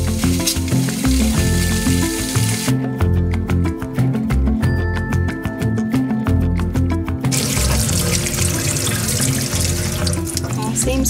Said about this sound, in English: First thing I'm doing is turn the cold water supply on to the bathroom sink.